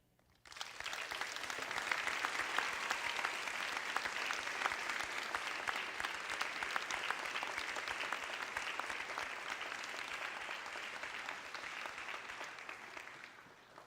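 A crowd at an eighth grade recognition ceremony breaks into sustained applause, rising quickly and holding as a dense, even roar of clapping for over ten seconds before fading at the close.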